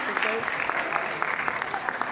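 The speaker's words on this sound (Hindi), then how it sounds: "जोरदार तालियां इन बच्चों के लिए तो होनी ही चाहिए।" Crowd of parents and guests clapping for young children receiving first- and third-place medals and certificates at a school event, a steady, dense patter of many hands throughout.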